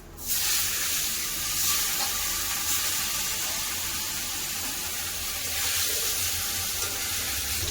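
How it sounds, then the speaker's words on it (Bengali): Fish pieces fry in hot oil in a pan, giving a loud, steady sizzle that runs unbroken throughout with no talking. "বাকি মাছগুলো আমি ভেজে নেব"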